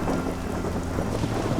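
Heavy rain pours steadily in the Amazon rainforest of Colombia, a dense close wash of sound with a low rumble of thunder running underneath throughout.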